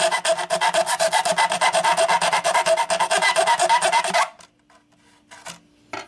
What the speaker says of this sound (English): just follow that mark and just grind it down to make it smooth and straight